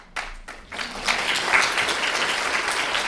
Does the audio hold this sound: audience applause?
yes